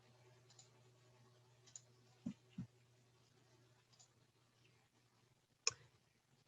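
Computer mouse clicks while working in Google Drive: a few sparse, soft, sharp clicks spaced irregularly in a very quiet room, with no talking.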